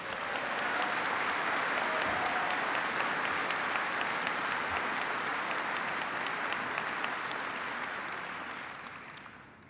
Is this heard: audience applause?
yes